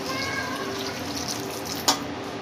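A full glass of water is poured into a cooking pot of stuffed tinda, a steady close trickling and splashing with a small clink near the end.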